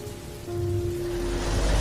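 Steady rain falls on a village at night, a dense broadband hiss that grows louder partway through and then holds, with a constant tonal hum running underneath.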